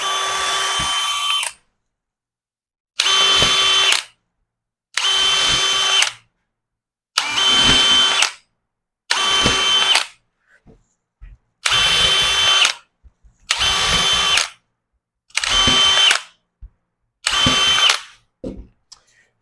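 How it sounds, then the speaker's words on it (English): A power drill drives 1 5/8 inch decking screws into wood while building a hammer form, with nine separate loud bursts of whirring, each one to two seconds long, broken by short silences. "I'm just using 1 5/8" decking screws for this portion of it"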